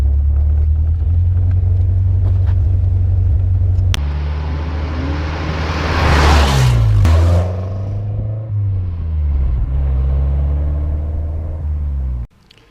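A loud, deep engine rumble from a 1985 Alfa Romeo Spider Veloce approaches and passes close by, the pitch dropping as the car goes past before the sound cuts off.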